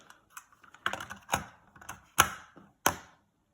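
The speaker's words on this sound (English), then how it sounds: "put a tape in" A cassette tape being fitted into a vintage Sanyo M-G7SP personal stereo: a handful of sharp plastic clicks and clacks, close and distinct, with short silent gaps between.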